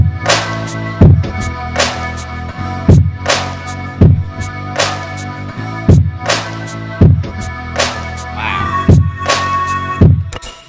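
Drums laid over an electronic beat section: punchy kicks and crisp snares or claps hit in a steady repeating pattern over a sustained synth pad, loud and upfront with no talking.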